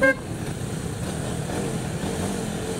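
Dense, heavy road traffic in San Juan, with a steady roar of car and motorcycle engines close by and a brief horn toot at the very start.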